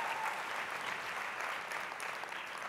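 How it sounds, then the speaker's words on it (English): An audience at a newspaper's 90th anniversary gala applauds steadily, a dense, sustained wash of many hands clapping at moderate volume with no voices on top. "Clap, please."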